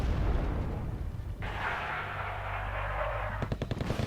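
Machine gun fire and heavy battle noise in the Wargame Airland Battle strategy game, rumbling explosions under a rushing roar, ending in a rapid rattling burst of shots.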